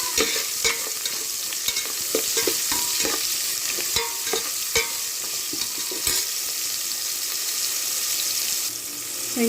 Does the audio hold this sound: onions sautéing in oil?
yes